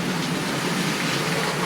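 Model railway coaches rolling through a tunnel, a steady, enclosed rumbling hiss with faint clattering wheels, continuous and fairly even throughout.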